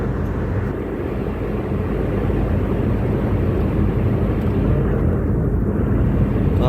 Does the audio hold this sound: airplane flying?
yes